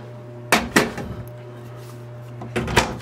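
A kitchen drawer in an RV park rental cabin is pulled open and rummaged through, giving two pairs of close, sharp wooden clunks and rattles separated by a short quiet pause.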